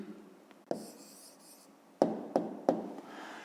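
An answer to a fifth-grade maths exercise is written by hand, giving soft scratching pen strokes with a few sharper taps as the pen meets the paper, close and quiet with no talk.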